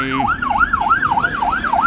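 An ambulance siren sounding during an emergency drill at Khung Bang Kachao, Thailand: a loud, close wail that sweeps up and down in a steady repeating cycle, about three rises and falls per second, with a brief horn-like tone at the start.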